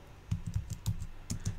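Light typing on a computer keyboard while adding text in a video editor, a string of quick, soft keystrokes in an uneven rhythm, close and fairly quiet, with no talking.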